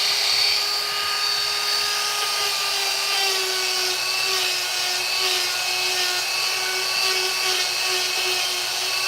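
A chainsaw runs steadily while carving a wooden Minecraft Steve sculpture, a loud, sustained high-pitched whine with only slight shifts in pitch and no pauses.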